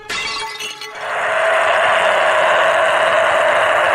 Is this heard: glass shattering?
yes